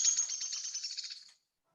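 A small backyard bird at a winter feeder lets out one rapid, high trilling call lasting just over a second, fairly faint and clear against silence, then stops.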